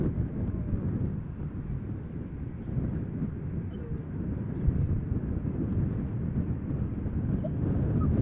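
An Embraer 190 jet at Amsterdam Schiphol Airport, a steady low rumbling engine roar mixed with gusty wind noise, continuous throughout and growing slightly louder toward the end.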